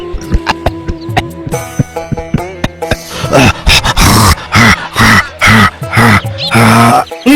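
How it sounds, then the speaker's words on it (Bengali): A cartoon character gives a run of harsh, rapid coughs and throaty grunts, loud and close, in repeated bursts that grow denser and more strained toward the end. "উনি তো শুধুই কাশছেন।"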